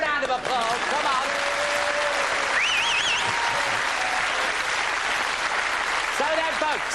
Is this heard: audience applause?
yes